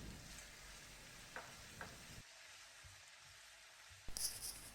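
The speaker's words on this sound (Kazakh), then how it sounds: "Бірге қуырамыз жақсылап" Minced meat with carrot and tomato frying in a pan, a faint, steady sizzle with a few soft stirring scrapes, quiet and continuous with no voices.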